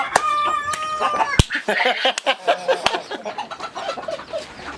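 A rooster crows loudly close by in a chicken coop, then scattered clucks and sharp clicking knocks follow in an uneven rhythm.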